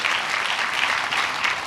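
A church congregation breaks into lively applause, many hands clapping in a thick, continuous roar that stays loud and even throughout.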